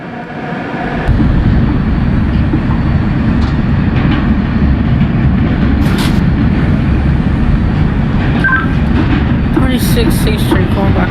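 A simulated NYC Subway R142A 4 train pulls away from the platform with a steady, loud rumble of motors and wheels that fills the whole stretch, with a radio voice talking briefly over it.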